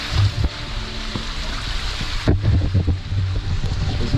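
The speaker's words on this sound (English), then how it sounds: "Coming down the waterfall." Water spilling down a waterfall inside a wet cave, a steady rushing broadband wash with splashy bursts and wind-like noise, close and fairly loud throughout.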